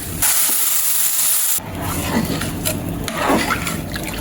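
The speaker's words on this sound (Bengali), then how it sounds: "তো এখন পানি দিয়ে দেব" Water splashes steadily into a pot of fried rice and lentils for bhuna khichuri, a close, continuous pour that stops abruptly, followed by a softer hiss and bubbling.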